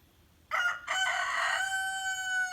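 A rooster crows loudly and close by, one long drawn-out call with a slight break near the start, ringing on strongly to the end.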